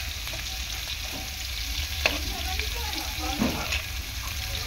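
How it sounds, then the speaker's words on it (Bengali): Garlic and prawns frying together in a pan, with a steady close-up sizzle and a few scraping stirs and clunks of a spatula against the pan. "রসুনটাও ফ্রাই হয়ে যাবে মাঝখানে"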